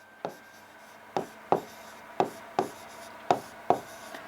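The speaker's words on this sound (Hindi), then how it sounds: "यहाँ पे लिखेंगे पंचकारक" A pen or marker taps and scratches on paper during answer-writing practice, giving six or seven sharp, evenly spaced strokes close by, with no talk.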